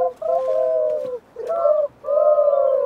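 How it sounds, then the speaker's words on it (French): A turtle dove in a forest coos in three purring phrases separated by short gaps, close and clear over a quiet background. "Vous l'entendez la tourterelle?"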